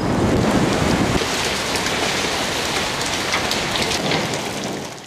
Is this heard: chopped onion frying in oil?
no